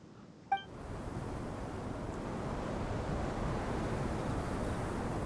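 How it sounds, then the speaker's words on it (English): A strong sandstorm wind in Genshin Impact blows as a steady, loud roar that swells slightly after a brief click at the start. It carries on alone with no voices. "The wind's so strong! Is this a sandstorm?"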